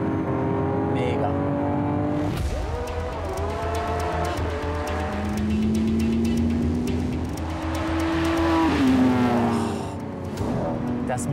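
A 700-horsepower sports car engine roars loudly and continuously, rising and falling as it revs, with a crackling, rattling exhaust note and voices talking over it.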